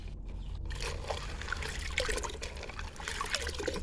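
Liquid fertilizer made from idli and cow dung poured little by little onto garden plants, a soft close trickle and splash with faint dribbles, no voices.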